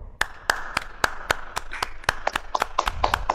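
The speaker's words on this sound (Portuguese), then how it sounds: "Uma salva de palmas para o Dr. Félix, por favor." Sharp, evenly paced hand claps ring out, a small group applauding in a steady rhythm at a medical awards ceremony, growing slightly busier toward the end.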